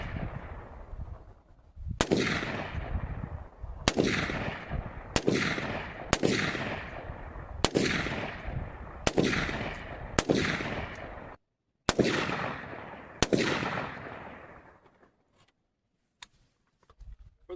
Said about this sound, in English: So today I'm just going to check the 0 at 25 and then shoot out to 100